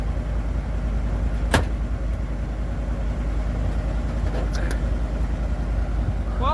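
Old Dodge dump truck engine running steadily at idle, a continuous low rumble throughout with a brief sharp knock partway through.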